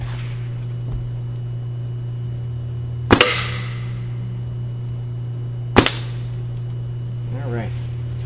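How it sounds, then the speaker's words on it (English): A Nelson paintball marker fires two sharp, loud pops at a wooden board, spaced a few seconds apart, each with a brief ringing tail over a steady low hum. "So let's take 2 pop shots at this board and see how it is."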